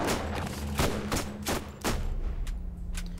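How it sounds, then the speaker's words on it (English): A slow-firing but powerful SMG in Borderlands lets off heavy shots at a steady, unhurried pace, roughly one every half second to second, each a sharp broadband crack with a booming tail, loud and close with no talking. "This gun shoots slowly. My god, is it powerful!"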